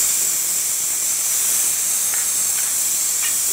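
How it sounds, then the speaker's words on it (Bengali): Spices and cumin powder fry together in a pan, giving a steady, bright hiss throughout with a few faint clicks near the end. "সব ভাজবো একসাথে। এর মধ্যে জিরার গুঁড়াটাও দিয়ে দিচ্ছি"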